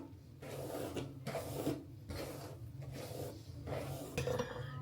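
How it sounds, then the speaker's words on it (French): A brush is drawn through hair in slow, steady strokes, each a soft rasping swish at close range, repeating about every second with no talk. "Je vais d'abord me brosser les cheveux."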